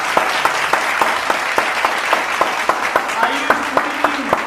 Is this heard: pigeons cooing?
no